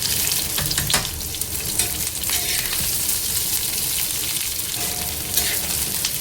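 Thinly sliced onion frying in a spoonful of oil for Kolhapuri misal crackles in a dense, steady sizzle, with occasional stirring scrapes and clicks close by.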